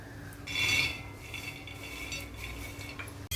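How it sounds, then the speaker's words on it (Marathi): Peanuts roasting on a hot iron griddle rattle and scrape as they are stirred and tossed, with a brighter metallic scrape early on, then continuing close, moderate clinks and shuffling. "तावा ठेवून आपण शेंगदाणे भाजून घेऊ"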